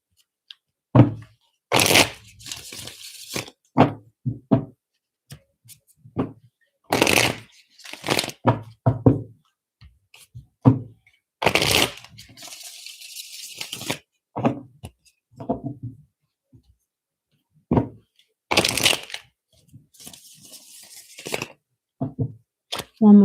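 Tarot cards are shuffled in repeated quick bursts of riffling and slapping, separated by short pauses, close to the listener.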